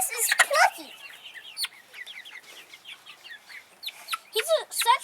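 A pet bird gives a series of clucking, chirping calls up close, in uneven bursts with short pauses between them.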